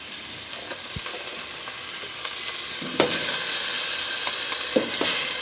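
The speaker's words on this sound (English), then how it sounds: "Look at that pretty sear on that meat." Beef tips searing in a hot pan, a loud continuous sizzle with scattered pops and spatters that grows slightly stronger toward the end, no talking.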